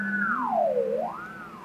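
Software synthesizer controlled by a SudoGlove produces an eerie, spacey sine-like tone that glides down then back up in pitch, steady and alone, with a soft lower tone beneath.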